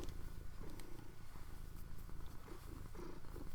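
A cat purring up close during a relaxed indoor session, a steady low rumbling drone that continues unbroken throughout with faint background noise and no talking.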